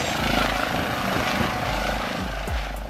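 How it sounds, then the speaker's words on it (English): An ambulance helicopter used for emergency medical response drones with continuous, close rotor and turbine noise, and a faint beating thump runs under the steady roar. "Ambulance helicopter, a helicopter used for emergency medical response and patient transportation."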